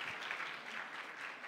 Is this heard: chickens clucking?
no